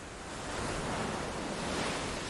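Ocean surf breaks along a Hawaiian shore on the Pacific, a broad, steady wash of foam that swells slightly after the start and stays even and distant-sounding, without any voices.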